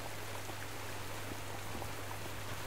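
Steady rain falls in the Subsistence survival game, a dense, even hiss of drops with no letup and no voices.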